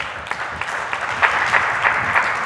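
A church congregation claps for the Holy Ghost during a sermon, steady rhythmic hand-clapping from many people that grows slightly louder, heard alone without talk.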